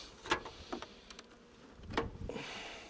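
Honeybees in an open hive buzz faintly in short, scattered bursts as individual insects fly past close by, with quiet gaps in between.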